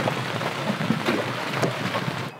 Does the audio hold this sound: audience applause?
no